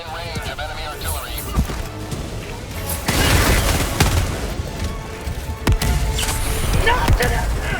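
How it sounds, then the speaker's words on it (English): Booming enemy artillery and gunfire in the Helldivers II video game, heavy rumbling impacts and scattered shots growing louder partway through, with voices talking over the battle. "Warning, you are in range of enemy artillery."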